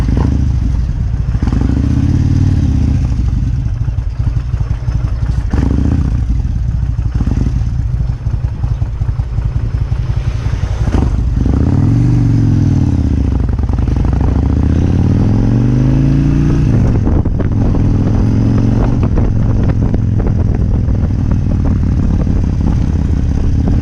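A big classic Kawasaki Vulcan 1600cc motorcycle runs loudly and close throughout, a steady rumbling idle with a couple of throttle blips midway.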